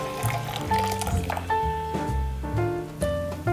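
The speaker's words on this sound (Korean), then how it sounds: "육수가 끓어서 물이 반으로 졸아들면 불을 끄고 체에 걸러주세요." Reduced broth is poured and strained through a sieve, giving a steady liquid splash and trickle with bright ringing tones from the pot and sieve throughout.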